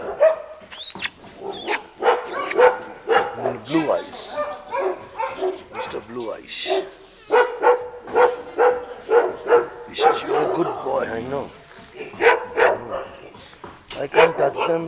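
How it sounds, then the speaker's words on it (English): Stray dogs outdoors barking in repeated sharp bursts, some near and loud, with occasional yips and whimpers, interspersed with people talking nearby. "Such beautiful dogs."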